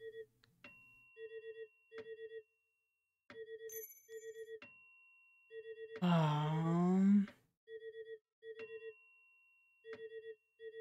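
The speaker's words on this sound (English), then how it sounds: "The phone." A phone in the video game Omori rings in repeated electronic trilling bursts at an even rhythm, with synth game tones around it and a player briefly groaning or speaking over one stretch.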